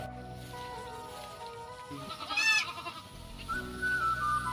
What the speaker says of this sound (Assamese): আৰু বাকী ছাগলী আছে য'ত ত'ত সোমাই চৰি আছে